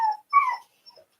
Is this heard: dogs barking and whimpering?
yes